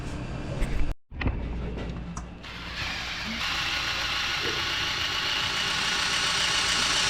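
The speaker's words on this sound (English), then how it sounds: "Brother's down there turning the engine over." The engine of a 1970 International Harvester 1100D is turned over by hand while the oil pump is primed, giving a clicking, ratcheting mechanical sound followed by a steady whirring hum that lasts to the end.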